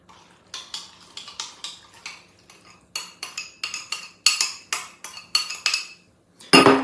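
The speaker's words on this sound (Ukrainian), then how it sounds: "Тепер це все ретельно перемішуємо." A spoon stirs chicken hearts with chopped onion and marinade in a bowl, producing a run of repeated metallic scrapes and clinks that grow louder and faster, ending in one sharp knock.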